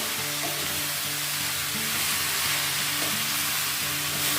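Bottle gourd and prawns sizzle steadily in a hot pan while being stirred, a dense continuous frying hiss with soft scraping, close and fairly loud throughout, no voices.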